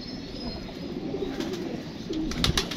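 A white female pigeon coos softly in a low, murmuring tone, close by and fairly quiet, with a few brief chirps and a light flutter near the end, no talking.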